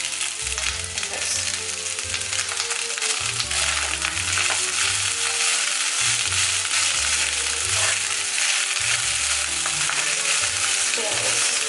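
Boiled chow noodles are stir-fried in a pan for egg chow rice, with a loud continuous sizzle and repeated scraping, clattering stirs cutting through the hiss.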